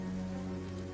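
Rain in the video game Battle Brothers, a steady close patter of raindrops on a surface, continuous and even over a low game ambience.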